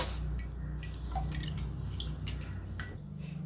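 Watermelon juice dripping and trickling through a strainer in a kitchen, with soft wet drips and small squishy splashes over a steady low background hum.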